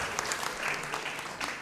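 A church congregation at a worship service gives a lively round of applause, dense continuous clapping that fills the room for a couple of seconds.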